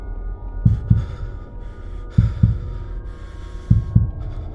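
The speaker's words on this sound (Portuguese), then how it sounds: "Senti meu coração batendo forte." A pounding heartbeat sound effect thumps in paired double beats, three pairs evenly spaced over a low droning hum, heavy and close with no voices.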